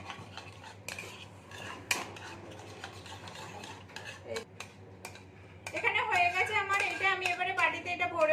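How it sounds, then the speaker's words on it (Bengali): A spoon scrapes and clinks in a bowl while wheat flour batter is mixed with beetroot, in uneven quiet strokes, followed by a voice talking near the end. "এর মধ্যে আমি বিটরুট দিয়ে দিচ্ছি এক চামচের মতো দিয়ে এটাকে আমি খেটে নিচ্ছি"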